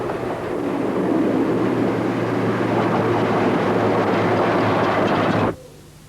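A train at Appleby on the Settle & Carlisle Railway rumbles past as a steady, loud roar with a low hum, holding level for several seconds before cutting off abruptly into quiet.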